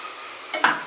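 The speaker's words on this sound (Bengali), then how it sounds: "এইবারে পুরোটা কষিয়ে নিচ্ছি।" Carrot and chhena mixture sautéing in a pan, a soft steady sizzle with two brief scraping stirs near the end, close and fairly quiet.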